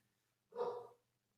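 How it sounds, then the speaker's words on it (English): A single short dog bark, a female dog, sounds from some distance in a quiet room and is loud and brief with no talk over it. "she's barking."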